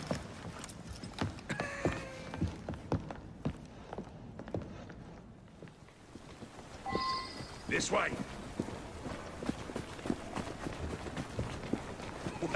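Horse hooves clip-clop steadily as a carriage gets moving in Assassin's Creed Syndicate, with clattering wheels and mechanisms. The sounds are mid-distance and moderately quiet, under short bursts of talk and a brief whinny-like call.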